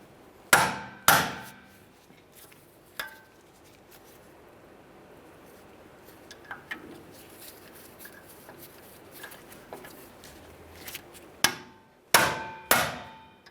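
Sharp metallic hammer taps on the brake mounting screws of a 2007-2013 Acura MDX during a rear brake job, a few isolated close strikes near the start and a quick cluster of two or three at the end, with quiet shop ambience between.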